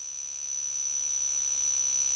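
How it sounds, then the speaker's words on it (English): A Swiss mechanical dive watch alarm buzzes with a steady, high-pitched tone that gradually builds slightly in loudness, close and continuous, with no voices. "for anyone that wants to hear a mechanical alarm"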